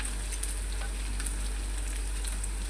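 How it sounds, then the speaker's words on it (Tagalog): Garlic and onion browning in a pan make a steady, even sizzle with faint crackles over a low hum, and no voice is heard. "Hintayin na lang natin na medyo mag-brown-brown ng bawang at saka yung sibuyas"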